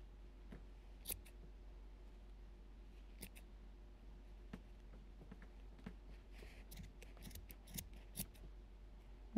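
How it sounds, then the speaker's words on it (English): Scissors snip through many yarn loops on a pom pom, a quiet run of sharp cuts with uneven gaps that quicken toward the end, close and alone with no talk. "Come through and cut all these little loops."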